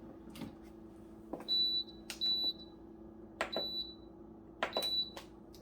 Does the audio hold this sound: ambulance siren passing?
no